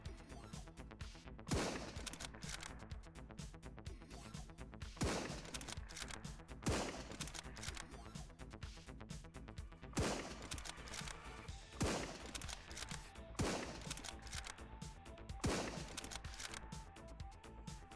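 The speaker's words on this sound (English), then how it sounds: "For this fight, I relied almost entirely on the hunting rifle, sniping the bandit rushers and assault team from afar." Hunting rifle shots in a bandit camp fight in the video game Surroundead ring out as sharp, separate reports spaced a second or two apart. They are fairly faint and heard over a quiet background.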